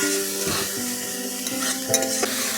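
Spice paste fries gently over a low flame, a soft steady sizzle broken by a few scrapes of stirring, close and alone.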